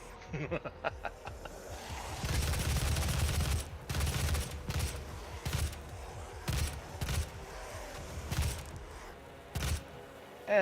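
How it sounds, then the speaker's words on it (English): Rapid bursts of gunfire in the video game DOOM crack out in quick clusters amid the game's clatter, loud and close, with short pauses between volleys. "I'm gonna shoot all these people"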